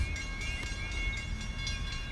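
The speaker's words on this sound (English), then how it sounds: "That bell is the sound of a train coming." A train's warning bell near a station, ringing as the train approaches from behind trees, is heard as steady, repeated high metallic tones with a faint rumble of rail traffic beneath, continuous and moderately distant.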